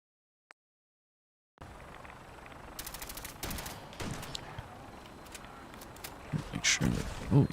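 Gunfire in the Fallout 4 video game, including a Tesla cannon, bursts out as rapid irregular shots and crackling blasts after a second of silence, growing louder toward the end amid game ambience.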